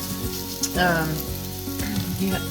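Mushrooms sizzle steadily as they brown in a frying pan, a continuous close crackle of hot fat with a few louder spits and bursts of spattering.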